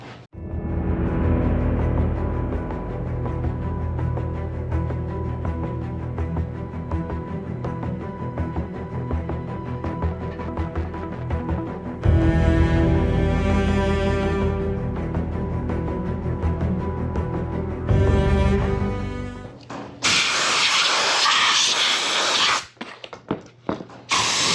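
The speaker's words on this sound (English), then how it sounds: "So now we're going to drill this hole." A power drill bores a bolt hole through a wooden fishing rod stand, whirring steadily and loud for most of the stretch, then a harsher, brighter grinding burst near the end with brief pauses.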